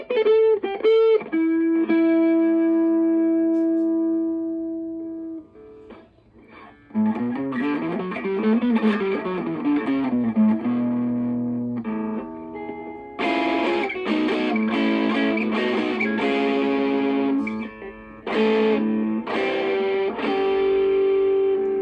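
A PRS electric guitar with distortion plays sustained chords and notes with bends, then choppier strummed chords, loud and close, with no voices.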